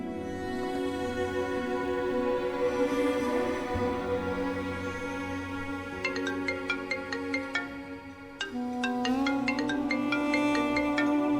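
A phone ringtone melody plays over background music, with repeated bright tonal bursts recurring in two phrases.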